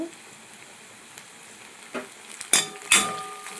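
Curry leaves fry in hot oil with a quiet hiss, then sharp crackling bursts as they hit the pan, with a couple of louder spitting pops near the end and no talking.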